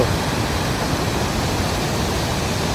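A constant, dense roar of rushing water at Croton Gorge Park, New York, steady and unbroken throughout, like a nearby waterfall.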